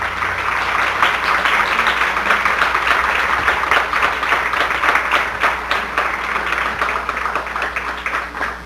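An audience at the opening lecture of a conference on nomadic and sedentary peoples of northern Mexico claps for a long stretch, a dense, steady roll of many hands that only eases slightly toward the end.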